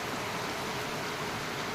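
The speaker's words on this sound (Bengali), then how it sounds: "অনেক বৃষ্টি পড়ছে।" Heavy morning rain pouring steadily, a dense, even hiss of water with no break or rhythm, fairly loud and alone.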